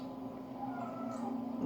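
A pet cat meows near a kitchen floor scattered with dropped food, a steady tonal cry held for over a second at moderate loudness over low room noise.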